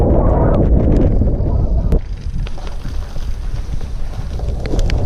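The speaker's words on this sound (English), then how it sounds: "chilly headwind the whole day" Chilly headwind blasting the microphone on a long road bike ride from Denver toward Pikes Peak, a loud steady buffeting roar with gusts that ease after the first couple of seconds.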